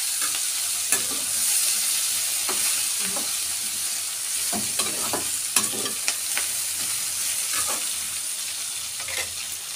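Brinjal curry frying in oil while being stirred, a steady close sizzle with frequent scraping and tapping of the spoon against the pan throughout.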